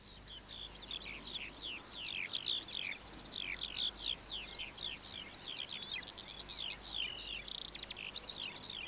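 Red-legged partridges at a field margin, giving a run of bright, rapid chirping calls through the whole stretch, fairly faint over a soft outdoor background.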